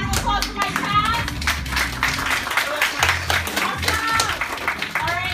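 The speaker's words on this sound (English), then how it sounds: "Let's get a round of applause for my cast." An audience at an improv and sketch comedy show in Miami claps for the cast, a dense stretch of applause with voices talking and calling out over it.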